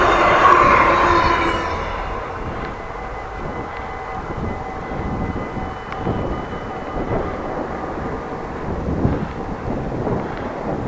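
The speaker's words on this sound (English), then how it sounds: "Oh, the train, oh, luxury." A train rumbles past nearby on the line between Groningen Noord and Sauwerd, Netherlands, starting loud with a rushing roar and settling into a steady rolling clatter of wheels on track.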